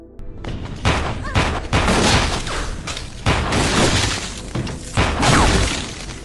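A loud, chaotic burst of gunfire in an action film, with repeated booming shots and shattering, crashing impacts, continuous and dense throughout.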